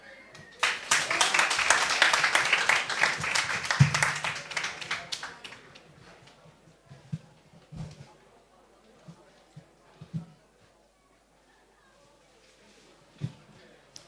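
Applause at a secondary school graduation ceremony in Carriacou, a burst of many hands clapping for about four seconds that fades out, followed by scattered faint taps and quiet voices.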